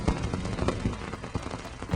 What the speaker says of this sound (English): Actual dust particles hitting Cassini's high-gain antenna as the craft came into orbit